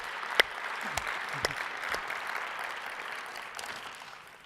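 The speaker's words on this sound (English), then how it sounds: "So I think we need to give her a really big round of applause." A room of guests at an awards luncheon keynote applauds warmly, with steady clapping and a few sharper claps that fade gradually toward the end.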